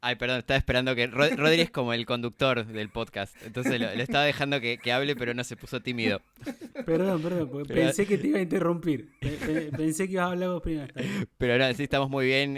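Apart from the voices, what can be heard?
No everyday noises stand out.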